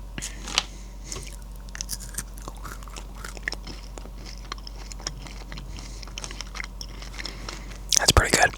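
A fried Thai snack is chewed and crunched close to the mic, with soft irregular bites and mouth sounds throughout and a louder burst of crunching near the end.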